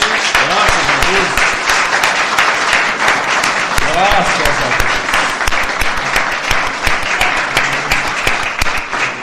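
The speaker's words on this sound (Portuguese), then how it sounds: "Vamos aplaudir ao Senhor?" A church congregation claps loudly and continuously, with a dense wash of hands filling the space while voices speak briefly over it.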